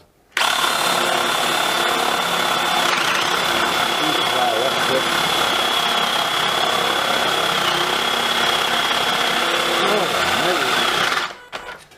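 Dewalt DCD776 18V cordless drill boring a 25mm hole, a loud, steady motor whine held for about eleven seconds with a strained, grinding tone before stopping abruptly.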